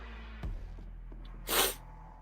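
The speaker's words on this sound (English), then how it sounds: "I wanted to sneeze." A single sharp sneeze from one person bursts out loudly and close by, following a faint intake of breath in an otherwise quiet room.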